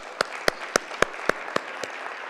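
A few audience members at a regional affordable housing forum clap sparsely, about seven separate sharp claps spaced evenly, nearby and distinct rather than full applause.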